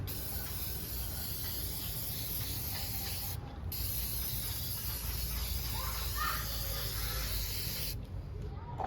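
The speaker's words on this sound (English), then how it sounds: "I'm gonna go outside spray a layer and we'll see." Steady broadband hiss of an aerosol varnish spray can coating a watercolour painting, running almost continuously, with two brief pauses between bursts, recorded close up outdoors.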